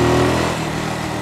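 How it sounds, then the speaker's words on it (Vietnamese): A Brixton BX 250 motorcycle's 250 cc engine runs steadily, its twin exhaust pipes merged into one. The note is close, a continuous low hum with a slight drop in pitch partway through the brief moment. "Đây là cục máy 250,"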